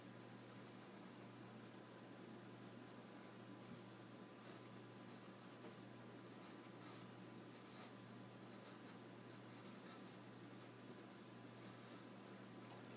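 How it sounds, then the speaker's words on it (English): A pencil drawing straight lines across paper, a steady soft scratching that runs throughout at low volume over faint background hiss, with no talking. "I'm going to draw a diagonal line from the bottom left corner"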